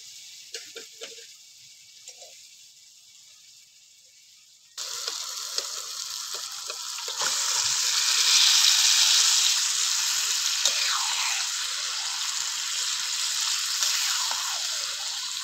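Chicken meat dropped into hot spiced oil on a clay stove for a yogurt chicken curry, a broad hiss that jumps up on contact and swells into a loud, steady sizzle.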